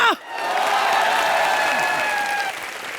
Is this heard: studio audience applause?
yes